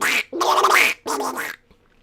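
A person imitates Donald Duck's voice with three close, loud, raspy quacking bursts, the middle one longest, followed by silence.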